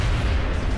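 An explosion in XCOM: Enemy Within on Xbox 360/PS3 takes down an enemy: a loud, brief blast of dense, low rumbling noise that fills the whole moment without a break.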